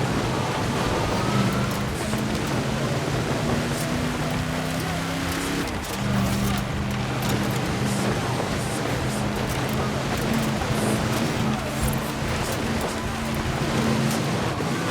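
A Mercedes 6x6 truck drives in Forza Horizon 4, a steady loud engine drone with a brief drop in tone midway, as if shifting gear, under a constant rushing wind noise.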